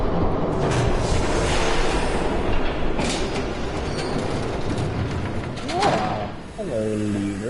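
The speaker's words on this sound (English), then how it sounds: "There's a train coming." Train approaching in a Batman video game, a loud continuous rumble and rattle of rail cars running throughout, with a few tonal squeals near the end.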